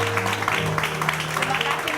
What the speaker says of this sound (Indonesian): Tepuk tangan dulu dong buat Mas Bagus.